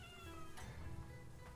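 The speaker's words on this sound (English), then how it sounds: "What are you meowing about?" A cat lets out a single faint, drawn-out meow in a quiet room, followed by a softer trailing call.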